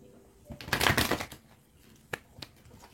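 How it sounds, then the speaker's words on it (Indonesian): Tarot cards shuffled by hand during a reading, a brief burst of riffling card noise followed by a couple of soft taps as cards are set down. "Aku tarik dulu semua kartunya"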